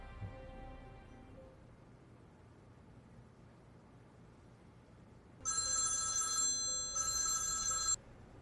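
A telephone bell rings in two loud, close bursts separated by a short pause, each a rapid metallic trill, following several seconds of quiet room hiss.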